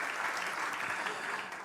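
A church congregation at worship applauds together, a continuous, even roar of many hands clapping heard at moderate distance, without pauses or talk over it.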